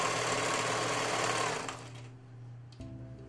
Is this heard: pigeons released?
no